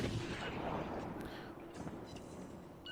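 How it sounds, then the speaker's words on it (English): Warship main guns firing in the naval combat game World of Warships: a heavy, booming salvo that swells into a sustained, rumbling roar. The blast stays loud and dense throughout, with no voices over it. "we're just going to aim just in front of him and double click to fire all the guns"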